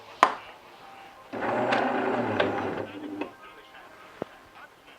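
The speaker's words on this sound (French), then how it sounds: "Il me suffit de refermer la trappe pour que la machine détecte le café moulu" The ground coffee hatch being closed on a Jura A7 coffee machine, a sharp click, then a couple of seconds of mechanical whirring and clattering from the machine, followed by soft clicks, heard up close.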